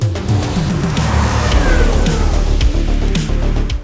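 A Mitsubishi Evo VR4 race car engine runs loud and steady at close range, a continuous low rumble with slight rises in revs, no voices over it.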